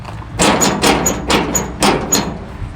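The stuck tailgate of a 1971 Chevy C20 Custom 4x4 long box truck gets yanked repeatedly and will not unlatch. Five or six loud, close metallic thuds and clanks come in an uneven rhythm.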